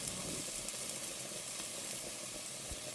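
Garlic and ginger paste with seafood masala spices sizzles in a pan for a prawn curry, a faint steady hiss with soft crackle, no talking.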